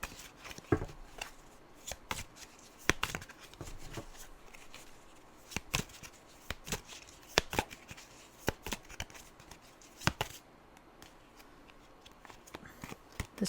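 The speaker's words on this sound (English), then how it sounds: "this deck is shuffling weird" A tarot deck riffled and shuffled again and again, sharp crisp card slaps in irregular bursts over a quiet room, fairly faint and with no talking.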